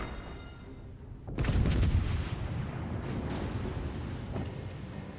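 A sudden heavy boom of warship guns firing high-explosive shells in World of Warships: Legends, a deep blast at about one second followed by a rumbling, crackling tail.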